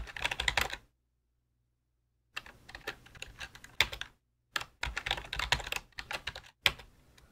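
Fingers type a password on a computer keyboard while setting up Windows Subsystem for Linux: quick close-up key clatter in bursts, broken by a long silent pause and shorter gaps.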